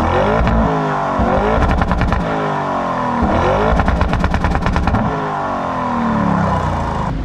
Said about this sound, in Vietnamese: Đó, các bạn nghe tiếng bô đằng sau không?